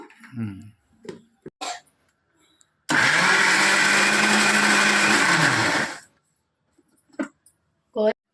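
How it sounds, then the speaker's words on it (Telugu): A kitchen mixer grinder whirs loudly for about three seconds while grinding gongura leaves for chutney, a short single burst framed by brief talk and clinks before and after. "ఇదిగోండి, మిక్సీ పట్టేస్తాను."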